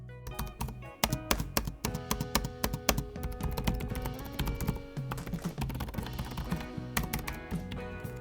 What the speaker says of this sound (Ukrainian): клавіші на клавіатурі достатньо тихі, аби не турбувати співмешканців чи колег по офісу.